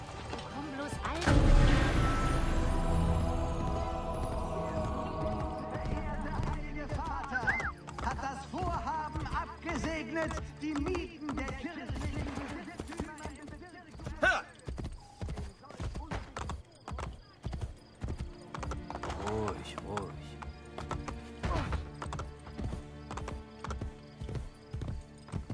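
In Assassin's Creed Brotherhood, a horse gallops with steady, rhythmic hoofbeats amid busy in-game ambience and other game sounds, loud and continuous throughout.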